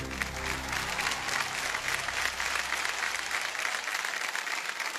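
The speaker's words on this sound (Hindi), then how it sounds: "जोरदार तालियां बज जाए हमारे दोनों मेहमानों के लिए।" A studio audience on Kaun Banega Crorepati bursts into dense, sustained applause for two celebrity guests, loud and even throughout, with a low musical swell underneath that fades out near the end.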